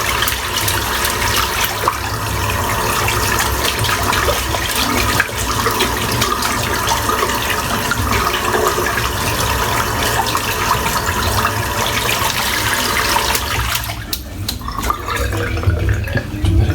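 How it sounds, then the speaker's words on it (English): A shaving brush rinsed under a running tap, with steady, close water flow splashing continuously into a sink for most of the stretch and briefly easing off near the end. "Just rinsing the brush out."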